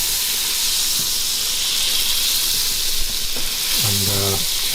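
Fifty grams of butter melting in a skillet gives a steady, close frying sizzle and hiss throughout, with a short clatter of utensils near the end.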